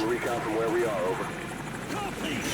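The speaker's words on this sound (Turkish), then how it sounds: "Bir helikopter geçiyor üstümden." Helicopter passing overhead in Call of Duty 4: Modern Warfare, a steady rotor drone heard under someone talking.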